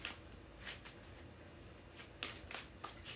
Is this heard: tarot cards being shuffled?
yes